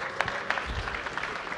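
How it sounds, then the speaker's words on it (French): An awards ceremony audience claps for the second-place contestants at a trophy presentation, a brief burst of dense indoor clapping. "Et on les applaudit, les deuxièmes battleurs"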